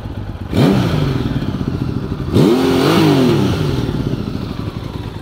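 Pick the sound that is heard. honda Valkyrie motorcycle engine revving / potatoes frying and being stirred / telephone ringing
honda Valkyrie motorcycle engine revving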